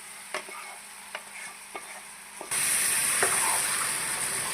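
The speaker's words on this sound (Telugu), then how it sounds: "పుట్టగొడుగులు వేసేస్తున్నాను." Marinated mushrooms tipped into a pan of softened tomato for a mushroom dahi curry: light stirring clinks at first, then a loud, steady sizzle of frying swells and holds, with a few spoon scrapes over it.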